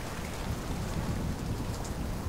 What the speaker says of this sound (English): We'll have to wait for the rain to stop.